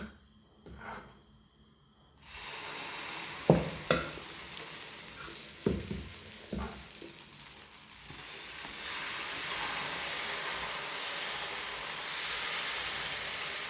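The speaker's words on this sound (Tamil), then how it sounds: "இப்போ தோசை ஊற்ற போகிறேன் பாருங்கள்" Mudakathan leaf dosa batter sizzles and hisses steadily on a hot pan, with a few scraping stirs partway through and the frying noise swelling louder toward the end.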